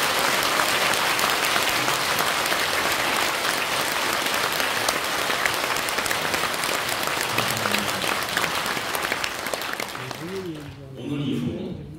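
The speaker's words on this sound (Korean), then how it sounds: "우리 한기총을 지키신 목사님들에게 우리가 깊은 감사의 박수를 치겠습니다." A church congregation, standing at a worship service, applauds the pastors with loud sustained clapping from many hands that fills the room, then fades near the end as a voice begins speaking.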